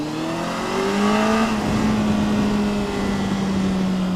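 A Kawasaki Concours 14 ABS, a 1400 cc touring motorcycle, accelerates hard with a loud rising engine whine that climbs through a gear change and settles into a strong steady drone, with wind noise and no talk.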